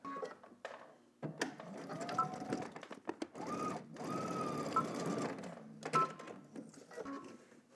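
A home sewing machine stitches a garment seam, running in several short bursts separated by pauses, with faint clicks and handling sounds between runs.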